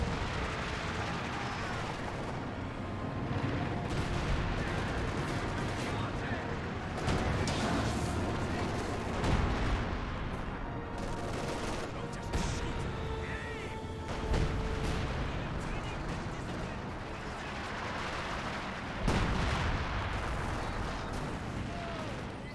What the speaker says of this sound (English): that's a land mattress barrage